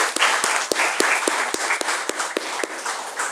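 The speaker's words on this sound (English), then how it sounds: "So your family members deserve the biggest applaud." An audience at a technical safety learning event breaks into steady applause, many hands clapping in a dense continuous wash with a few sharper individual claps standing out, close and even throughout.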